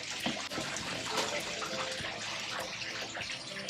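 An aerating bubbler churns water in a fish container for newly bought pond fish, giving a constant close bubbling wash of water that runs throughout.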